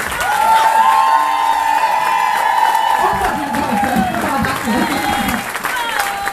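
Applause and cheering from a live audience at a club show in Essen, a dense crowd clapping loudly with whoops and shouts, accompanied by sustained tones and music, loud and close throughout.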